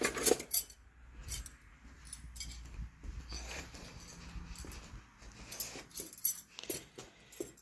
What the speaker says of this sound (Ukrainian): Так, вилочку взяти.